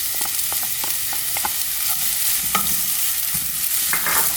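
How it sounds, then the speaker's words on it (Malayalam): Sliced onions sautéing in oil for potato 65, a steady close sizzle with repeated scraping strokes of a spoon stirring through the pan. "ഇനി സവാള അതിലിട്ടിട്ട് ആ എണ്ണയിൽ തന്നെ ഇട്ടിട്ട് നമുക്ക് വഴറ്റിയെടുക്കാം"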